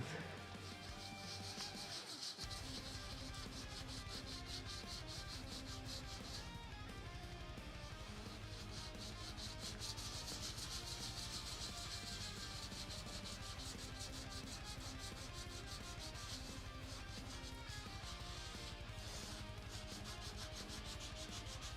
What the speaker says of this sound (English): I know I'm sanding